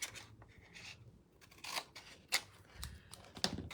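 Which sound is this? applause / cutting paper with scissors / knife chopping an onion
cutting paper with scissors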